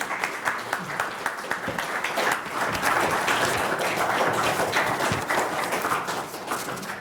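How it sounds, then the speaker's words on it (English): An audience at a lunch seminar applauds the panelists, with steady, full clapping that swells in the middle and tapers slightly, fairly close and continuous. "please join me in thanking our panelists in form of clapping your hands"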